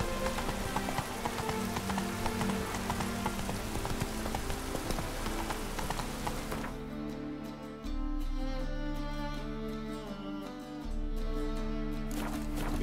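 Roach the horse clip-clops along steadily in The Witcher 3, hooves close and rhythmic over falling rain and game music, with no voices.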